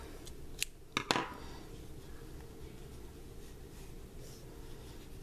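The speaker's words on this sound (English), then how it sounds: "Take your scissors now and fasten off." Scissors snip crochet yarn to fasten off a baby flamingo costume piece, giving a few sharp, close clicks grouped near the start before quiet room tone takes over.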